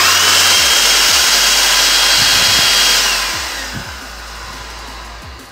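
A household vacuum cleaner running as a blower gives a loud, steady whine, with clicks and knocks during handling, then winds down toward the end.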